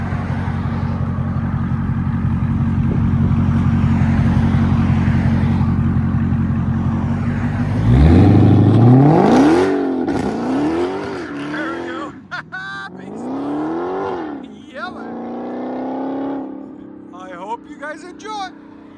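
A straight-piped Dodge Charger SRT V8 idles with a deep, loud burble, then revs repeatedly in sharp rising and falling sweeps, close by, with brief pops between blips.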